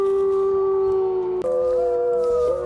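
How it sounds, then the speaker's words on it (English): Wolves howl in a long, loud, sustained chorus of wavering tones with several voices overlapping, produced as a sound effect for an audiobook reading; no speech is heard. "Terrible howls curled around the house."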